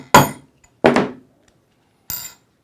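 Three sharp metal-on-metal hammer strikes on a snap setter driving a stud snap down, loud and close, spaced irregularly with short ringing decays and silence between.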